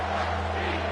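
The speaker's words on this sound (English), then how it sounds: "this crowd will blow out a vocal cord to help this defense" A stadium crowd in the NCAA 25 college football video game roars in a dense, sustained wash of cheering, loud and unbroken through the short moment.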